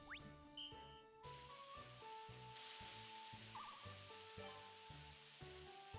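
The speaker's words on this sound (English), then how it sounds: "I would like for you to stir fry these ingredients." Ingredients for nikujaga sizzle steadily in a pan while being stir-fried in a cooking video game, a soft continuous frying hiss under a looping musical backing with a few short chimes.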